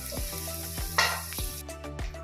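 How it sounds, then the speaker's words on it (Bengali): Torn bay leaves dropped into hot mustard oil that had just fried potato pieces, giving a steady close sizzle with a sharp crackling burst partway through and a few soft stirring knocks. "এরপর আমি তেজপাতা এইভাবে ছিঁড়ে তেলের মধ্যে দিয়ে দিলাম"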